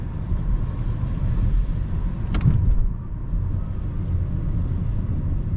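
A Nissan Sentra hums along a twisty road with a steady low engine and road rumble, constant cabin drone and a brief bump midway, no talking.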